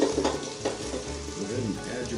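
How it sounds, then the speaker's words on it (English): Brussels sprouts sizzle and crackle steadily in butter in a hot pan seasoned with peppercorn medley and sea salt, a continuous frying hiss with small pops throughout. "go ahead and add your Brussels sprouts and let them start to sizzle."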